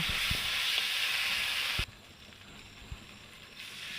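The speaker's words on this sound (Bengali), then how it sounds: "এখন এটার ভিতরে সে ভাজা আলুগুলো দিয়ে একটু সুন্দর করে পাশে করে সুন্দর করে কষিয়ে নেব" Fried potatoes being sautéed in a rohu fish curry give off a steady hissing sizzle that suddenly drops to a quieter simmer, with occasional soft knocks of stirring.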